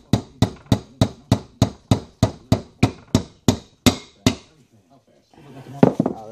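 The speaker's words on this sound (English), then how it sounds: "gotta take a hammer. Here we go. And seat this pin." A hammer drives a pin into a Honda manual transmission during a limited-slip differential install, with about fourteen sharp, evenly spaced metallic taps, close and loud. Then a short pause and some faint shuffling noise.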